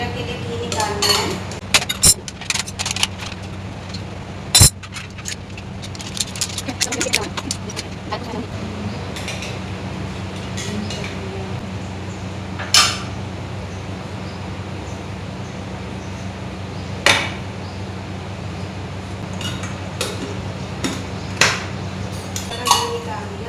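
Utensils clink and tap against a container while ghee is scooped out for a prayer ritual at home, scattered sharp clinks over a steady low background hum, with someone speaking at times.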